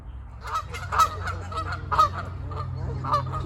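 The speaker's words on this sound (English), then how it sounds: "Geese calling." Several loud goose honks ring out in an uneven series, close by, over a low background rumble, at the Los Angeles County Arboretum and Botanic Garden.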